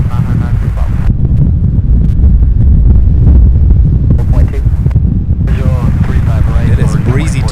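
Steady gusty wind at an airport, a broad low roar with microphone buffeting that runs continuously throughout, loud and close, with no other distinct sounds.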